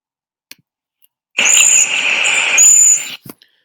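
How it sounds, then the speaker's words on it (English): A waxwing's high, thin call from a sound library, a single sustained trilling phrase of about two seconds, clear and isolated against silence. "Now you know what the waxwing sounds like."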